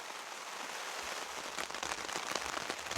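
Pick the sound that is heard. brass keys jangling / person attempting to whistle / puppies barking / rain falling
rain falling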